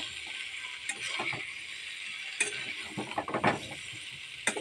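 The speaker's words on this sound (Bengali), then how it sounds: "আলুটা কষিয়ে নিলাম, এবার এঁচড়টা দিয়ে দিলাম।" Potato and jackfruit fry in a pan with a steady hiss and sizzle, broken by scraping and stirring noises at intervals, close and moderately loud with no voices.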